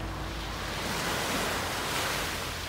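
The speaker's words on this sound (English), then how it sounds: "The night beach vibe." Night surf rolls onto a beach at Bouillante, Guadeloupe, as a steady, broadband wash of waves with no distinct breaks, close and moderately loud throughout.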